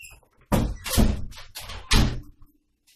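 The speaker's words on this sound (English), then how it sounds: "Hold on, close this door." Several heavy thumps and knocks of a door being handled and shut, close by, followed by quiet.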